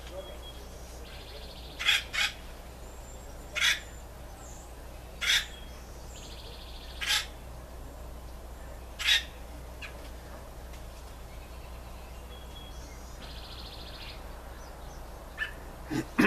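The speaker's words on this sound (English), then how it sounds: "Yes, I already know that this sound, this bird call, is already exactly the way I really want it to be." Short bird calls repeat roughly every two seconds, about six sharp chirps, faint and fairly distant over a steady low outdoor hum, with no one talking.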